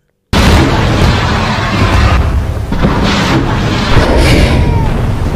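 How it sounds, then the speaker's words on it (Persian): A Navvab air-defence missile launches from the warship Shahid Soleimani during a naval exercise in the Persian Gulf, a sudden loud roaring blast that sustains as a heavy rushing boom for several seconds. "شلیک موشک پدافندی نواب از ناو راهبردی شهید سلیمانی به سوی پرنده دشمن"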